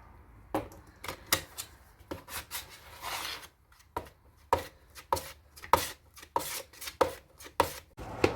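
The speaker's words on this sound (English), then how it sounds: "when they pop, you know it's time to add your hardener and mix it" Body filler and hardener being mixed with a spreader on a board during an at-home Ford F-150 fender repair: quiet, close, uneven scrapes and taps in quick irregular bursts, with no talking.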